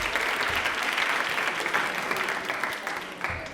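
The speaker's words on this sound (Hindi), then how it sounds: "तालियां एक बार जोरदार वापस से बजा दीजिए।" Studio audience applause on an Indian Railways quiz show on Doordarshan Rajasthan, a dense, steady round of clapping lasting the whole stretch at a fairly loud level with no talk over it.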